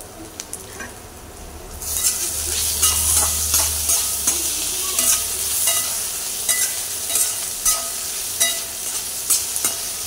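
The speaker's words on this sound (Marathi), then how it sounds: "टोमॅटो 1-2 मिनिटं भाजून घेऊया।" Chopped tomatoes hit a pan of frying onions with a bright sizzle, followed by steady frying and repeated scraping strokes of a spoon stirring, close and fairly loud with no talk.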